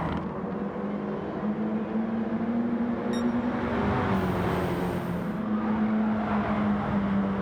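Audi TT Gr4 race cars from Gran Turismo 7 in a close racing battle, with a steady droning engine note that rises and falls slightly, continuous and fairly loud, with a brief high whine partway through.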